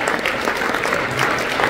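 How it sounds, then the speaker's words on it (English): Concertgoers at a high school spring concert in a performing arts hall applaud the composer with dense, continuous clapping from a sizable crowd, steady and fairly loud for the short span. "round of applause for our composer on this"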